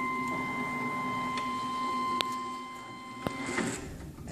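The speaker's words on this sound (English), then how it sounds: "You'll see that it's homing back to the rear proximity switch Once it reaches that, it knows its position," A printer carriage in a 10 T Dozer base assembly glides back to its rear proximity switch with a steady mechanical hum and whine, a few faint clicks, and a sharp tick as it stops, close and quiet without talk.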